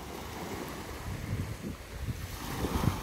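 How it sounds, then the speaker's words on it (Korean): Gentle East Sea waves lap at Myeongpa beach in Goseong, soft rolling swells rising and falling under light wind noise. "파도가 지금 잔잔하게 이렇게 치고 있습니다."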